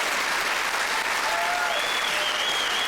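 A comedy-club crowd applauds as a comedian walks onto the stage, dense, continuous clapping filling the room with a faint tonal whistle or cheer rising through it.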